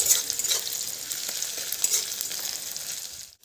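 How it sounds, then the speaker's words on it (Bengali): Onion frying in a pan, a steady close hiss and sizzle with faint crackles throughout, fading out at the very end. "পেঁয়াজটাকে খুব ভালো করে এখানে ভেজে নিচ্ছি"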